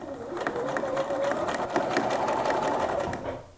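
A domestic sewing machine runs a straight stitch at length 3.5, a steady mechanical whir with a fast rhythmic needle patter, close and continuous before it slows and stops at the end.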